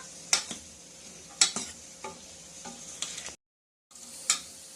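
Vegetables for South Indian sambar stirred in a pot, with a handful of sharp spoon scrapes at uneven intervals over a faint background sizzle and a brief silent break near the end.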